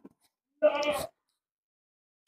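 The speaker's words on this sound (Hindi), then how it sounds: "तो क्या डिटेल है इस बकरी की?" A young Hyderabadi dairy goat with four fresh teeth gives a single loud, quavering bleat at close range at a goat market in Kishanbagh, Hyderabad, followed by quiet and a brief sound cut off at the end.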